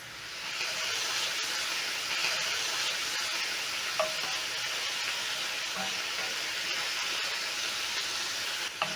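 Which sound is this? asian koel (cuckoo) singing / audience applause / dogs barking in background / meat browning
meat browning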